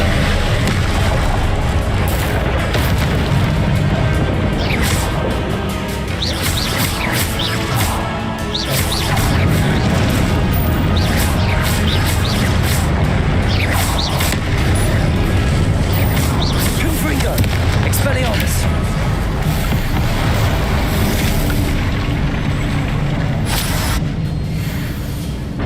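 Confringo explosion spells in Hogwarts Legacy, with repeated blasts, crashes and booms scattered through a dense, loud game battle soundscape, and voices talking over the action.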